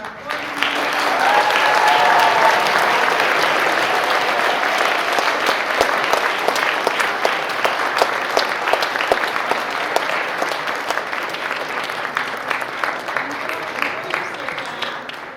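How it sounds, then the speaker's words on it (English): An audience at a naturalization ceremony bursts into sustained applause, loud and dense clapping that swells early and then slowly tapers across the hall, with voices faintly audible beneath it. "One great big round of applause for our"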